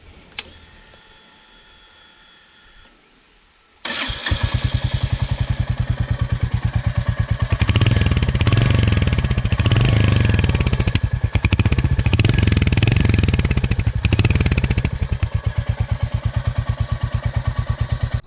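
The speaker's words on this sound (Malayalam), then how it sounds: "എൻ്റെ എക്സോസ് സൗണ്ട് നമുക്കൊന്ന് കേട്ട് നോക്കാം" A Royal Enfield Hunter 350 exhaust starts after a few quiet seconds, then runs loud and close with a steady thumping idle and several throttle blips before settling.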